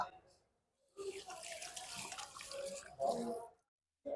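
Water running from a sensor tap in a bathroom fittings shop, a close, hissing splashing stream that starts and stops in short bursts, with some voice sounds in the background.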